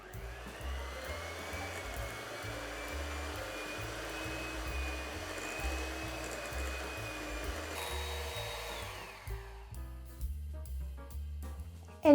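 An electric hand mixer whirs steadily as it beats eggs one at a time into creamed butter and sugar for a Scottish Dundee cake, a close continuous motor drone that changes pitch near the end, then thumps and clatters.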